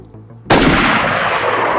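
A single loud gunshot goes off in the DayZ video game, a sharp close blast followed by a long rumbling tail that fades slowly.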